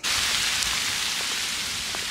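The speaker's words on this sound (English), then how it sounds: "Little hail storm coming through." A small hail storm pelting down outdoors, making a dense, steady hiss of countless tiny impacts that stays loud and even from start to finish with no voices.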